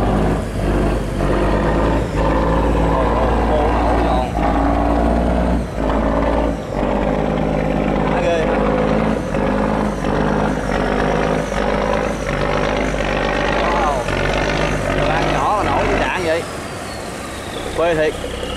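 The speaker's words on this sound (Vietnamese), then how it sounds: "nghe mấy tiếng động cơ của xà lan này là nghe hoài là không thấy chán luôn á" A river barge passes close by with its diesel engine rumbling in a deep, steady, loud drone that holds for a long stretch before easing off, with someone talking over it.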